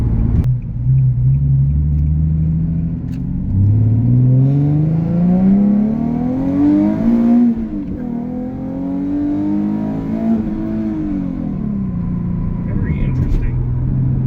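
A Nissan 370Z accelerates after a U-turn, its engine note rising steadily through the gears from close inside the cabin, with a loud continuous rumble that eases briefly before building again.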